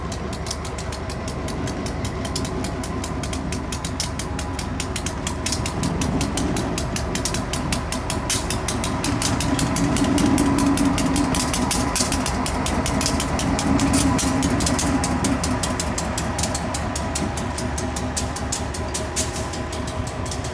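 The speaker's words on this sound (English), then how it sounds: "They'll tie up with the other locomotive on the main" A railroad locomotive works nearby during car switching in the rain, its engine rumbling and droning steadily while rain patters continuously. The engine swells louder midway and then eases back.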